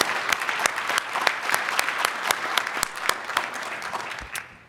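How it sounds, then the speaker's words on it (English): Applause from a large audience at a health-data research symposium, many hands clapping with distinct sharp claps standing out over a dense wash, fading near the end. "I want to start by having us all give a huge round of applause"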